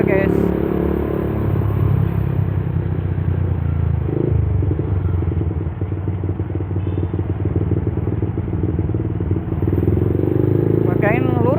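A Yamaha Vixion motorcycle rumbles steadily while being ridden, a continuous engine drone with wind noise throughout, and a rider talks over it the whole time.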